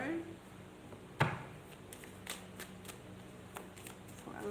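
Tarot cards are shuffled in short, soft riffling bursts, with a sharp snap partway through and faint intermittent flicks, under quiet background noise.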